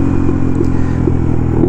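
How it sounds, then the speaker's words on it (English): Honda Navi mini motorbike idling with a Yoshimura exhaust and its silencer insert fitted, a steady close engine rumble with a few soft pops and crackles breaking through. "it still has the pop with the silencer in"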